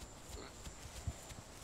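Dinosaurs tread heavily in the video game The Isle, a faint, rapid series of evenly spaced low thuds sitting under a soft steady background hum.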